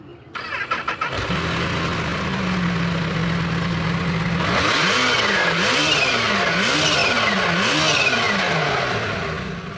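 A supercharged Kawasaki Ninja H2 SX motorcycle engine cranks and starts, idles with a steady drone, then revs up and down repeatedly, loud and close, with a high supercharger whine riding on each rev.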